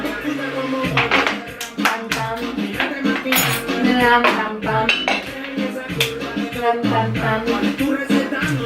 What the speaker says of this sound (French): il faut que je mélange 3 œufs avec 100 g de sucre et 250 g de sirop d'érable